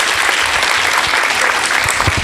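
A concert audience for the Tsiatsan vocal studio applauds loudly and steadily: a dense wash of many hands clapping together, close and sustained throughout without a break.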